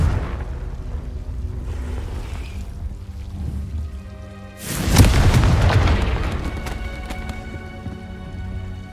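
A Confringo explosive spell in the video game Hogwarts Legacy goes off as a single loud, close blast midway, swelling into a roaring burst that decays over a couple of seconds above a tonal game soundtrack.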